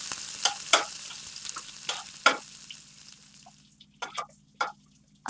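Crushed garlic frying in melted butter in a pan, with intermittent sharp sizzling bursts as it is stirred over a quiet background hiss.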